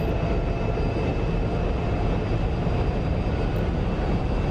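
An SR-71 jet in the DCS flight simulator cruises at high speed and altitude, a dense, steady roar of engine and wind noise that stays loud and unchanging throughout, with no voices.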